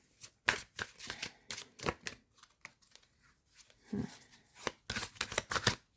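Tarot cards being shuffled by hand during a reading, a series of quick riffling bursts and soft slaps, close and fairly quiet, with a short pause midway before the shuffling resumes.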